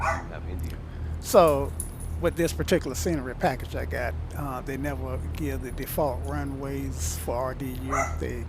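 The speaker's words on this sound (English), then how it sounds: "that's my dog" A pet dog barks indoors in a few sharp yelps, partly masked by someone talking steadily over flight-simulator radio chatter about runways.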